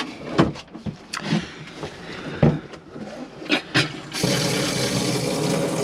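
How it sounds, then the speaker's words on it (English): A few clunks and knocks, then a steady rush of water spraying and washing through the toilet bowl of an Adria Matrix Access 590 ST motorhome, close by. "It'll just spray the bowl, clean the bowl and make it smell a bit fresh."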